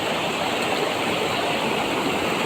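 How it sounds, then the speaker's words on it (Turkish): A mountain stream rushes through a forest canyon, a steady, dense broadband roar of flowing water heard up close with no talk over it. "Dere çok güzel."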